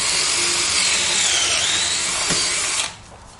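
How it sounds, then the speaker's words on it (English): A drill drives a screw through a Kreg pocket hole into a raised garden bed board, a loud close whine that rises in pitch under load and cuts off abruptly near the end. "I am putting 3 Kreg holes per board, so I have 3 screws going in."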